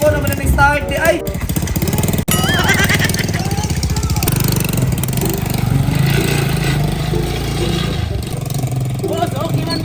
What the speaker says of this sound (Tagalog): Okay man yung motor, andar man di ay.